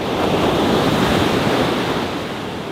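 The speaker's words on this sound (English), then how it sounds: "It's a beautiful day at Karon Beach. It's another huge beach, pristine sand, turquoise water" Ocean waves break on Karon Beach in Phuket, a loud, steady wash of surf with wind noise on the microphone, continuous and close with no voices.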